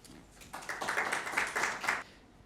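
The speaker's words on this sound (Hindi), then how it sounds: "आपकी भरपूर तालियों में" A brief burst of audience clapping welcomes a poet at a Pakistan Independence Day mushaira. It swells quickly and fades out after about a second and a half.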